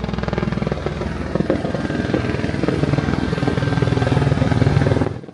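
A helicopter flies over a nature reserve during a litter clean-up, its steady rotor thump and engine whine loud and continuous throughout, cutting off near the end.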